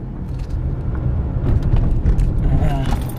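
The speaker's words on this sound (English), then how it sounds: "Bumps in the road." A car drives along a rural road in Newfoundland's Bay of Islands area, its steady low rumble punctuated by thumps and rattles from bumps, with a person talking over it.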